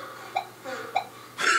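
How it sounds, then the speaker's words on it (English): Two short, sharp cough-like bursts sound at a moderate distance, spaced about half a second apart amid faint background noise during a game-show style Wheel of Fortune session, followed by a louder rustle or exhale at the end. "Did you hear that? Someone coughing?"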